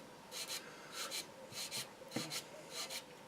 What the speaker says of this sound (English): new sanding stick. Sands so much more efficiently.